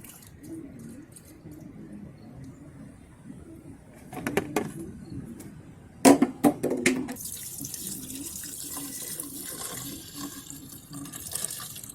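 Coolant siphoning out of a 1977 Oldsmobile during winterizing gives a close trickling, faucet-like flow of liquid, broken by a few sharp knocks and splashes midway before settling into a steady hiss.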